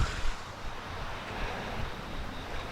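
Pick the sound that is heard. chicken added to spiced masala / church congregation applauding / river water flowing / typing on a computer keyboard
river water flowing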